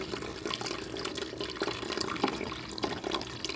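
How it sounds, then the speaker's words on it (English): A countertop ice machine cycles water through its system, producing a continuous close trickling and gurgling with scattered drips and splashes, no talking. "It's supposed to cycle the water that you put down there underneath the tray through the entire machine."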